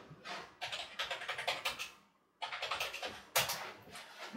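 Quick bursts of keystrokes on a computer keyboard as disk commands are entered, with short pauses between words and a firmer tap like an Enter key, close and unaccompanied by speech.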